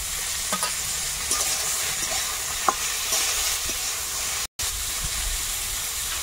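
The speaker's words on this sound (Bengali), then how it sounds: "এগুলো একটু ভাজা হয়ে গেছে, এবারে টমেটো দেবো, কাঁচা লঙ্কাটাও দিয়ে দেবো" Vegetables sizzle and fry in a pan as tomato and green chilli are added, a steady, fairly quiet hiss with occasional stirring scrapes and small clinks, no voices.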